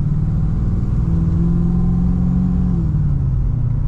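A cammed Holden Commodore SS with an LS1 V8 engine pulls at about 2000 RPM under light acceleration, a steady, loud, deep rumble that rises slightly in pitch, heard from inside the car with no one talking.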